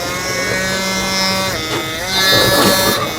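A BRDCLIP electric hair trimmer with a vector motor rated around 9,500 to 10,000 RPM runs steadily with a close, loud, tonal whine and buzz, shifting in pitch partway through, with a voice talking over it.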